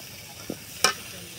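Potatoes, tomatoes and cauliflower fry in spiced oil in a pan under a low continuous sizzle, with a soft knock and then one sharp scrape of a stirring utensil.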